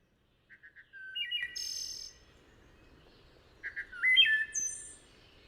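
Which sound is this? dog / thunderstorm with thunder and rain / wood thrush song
wood thrush song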